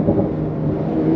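A Porsche 911 Carrera's engine pulls hard under acceleration on the road, a loud, steady rising drone with rumbling low end and wind rush, heard alone with no talking.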